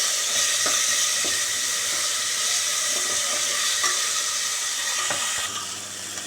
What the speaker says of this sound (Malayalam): ഇനി ഇതിൻ്റെ കൂടെ ഞാൻ ആ ഉരുളക്കിഴങ്ങും കൂടെ ആഡ് ചെയ്തിട്ടൊന്ന് ഫ്രൈ ചെയ്യണം കേട്ടോ